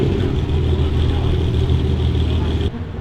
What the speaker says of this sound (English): This thing starts up, it sounds like an absolute symphony.